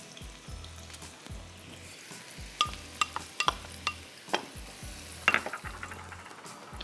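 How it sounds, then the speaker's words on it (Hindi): Chopped onions frying in ghee for a Delhi-style chili chicken biryani, a steady sizzle with bursts of crackling spatter and a low rhythmic thumping underneath, no speech. "अब आपको घी में चॉप्ड अनियन डालनी है 1 कप, और इसको आपको फ्राई करना है।"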